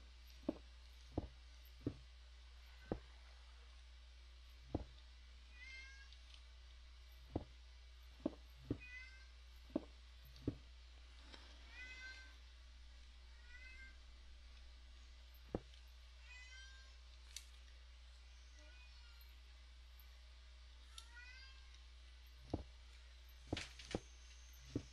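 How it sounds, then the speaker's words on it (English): Cat meowing in the video game Minecraft, several short meows scattered over a quiet in-game background with sharp clicks and knocks between them and no talking. "There goes my cat, destroying the place."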